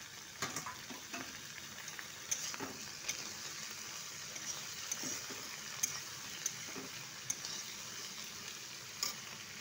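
Tomatoes tossed into onions already frying in a pan for an Assamese village egg and tomato dish give a soft, steady sizzle with intermittent scraping stirs and faint clicks, fairly quiet and close, with no talking.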